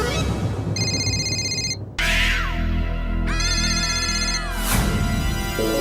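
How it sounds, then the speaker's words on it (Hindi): A mobile phone ringtone plays loudly in a repeating electronic melody with shifting tones and chime-like patterns, running continuously without talk. "सुना आपने, मेरा फोन बज रहा है"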